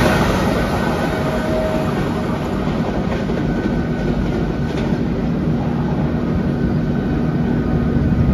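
Udyan Express, Bengaluru to Mumbai, runs in the early morning after leaving Mantralayam Road station, heard from inside a 3A coach as a loud, steady, unbroken rumble and roar with faint rattling and no voices.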